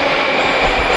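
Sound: metro train

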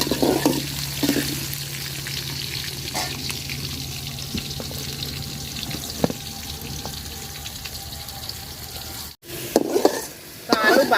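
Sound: new potatoes frying in oil

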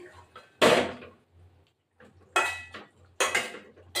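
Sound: cooking pot of fish curry taken off the stove

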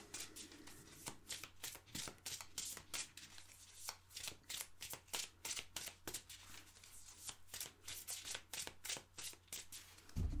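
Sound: playing cards being shuffled and drawn

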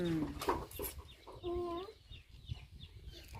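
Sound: chicken clucking

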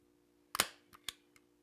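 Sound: staple gun stapling fabric on antler mount

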